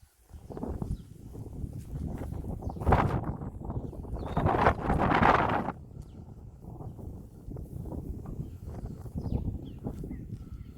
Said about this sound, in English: As you can tell, very windy.